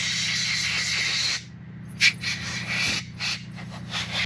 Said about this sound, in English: take the air, and we're just going to blow all the chemicals out and dry it out.